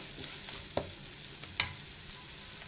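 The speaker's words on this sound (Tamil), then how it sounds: "கொடமலகாவும் ஒரு 2 minutes நல்லா வதங்கட்டும்" Capsicum sautéing in a pan for tawa mushroom, a low steady sizzle with two sharp clinks of a spoon stirring against the pan.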